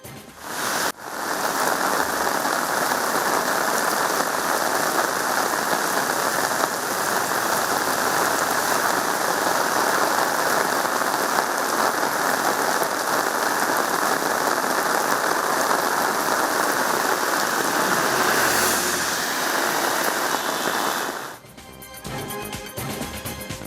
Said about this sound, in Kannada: ರಾತ್ರಿ ಇಡೀ ಸುರಿದ ಭಾರೀ ಮಳೆಗೆ ಹಲವೆಡೆ ರಸ್ತೆಗಳು ಜಲಾವೃತವಾಗಿವೆ